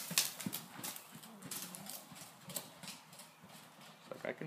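A mare trots with hooves clip-clopping in a steady quick rhythm close by, while people talk quietly over the hoofbeats.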